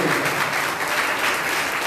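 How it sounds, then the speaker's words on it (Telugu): Loud, dense applause fills a church hall during a Sunday worship service at Madikonda, steady and continuous from start to finish with no pause. "గట్టిగా చప్పట్లు కొట్టి"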